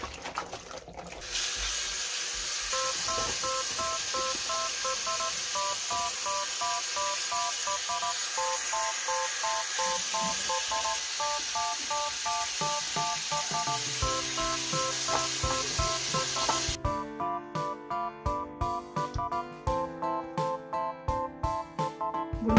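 Water runs from a kitchen tap and sprays over asparagus being rinsed, a steady hissing stream for most of the stretch, then gives way to choppy splashing as the spears are handled under the flow, with no talking.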